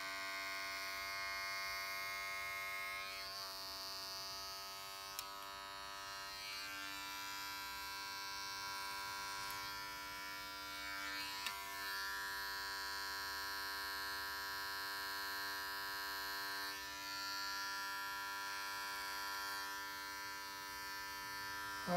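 Electric clipper buzzing steadily through a full beard trim, a close, continuous motorized hum with strong harmonic tone and slight shifts in pitch as the blades move through thick hair, no talking.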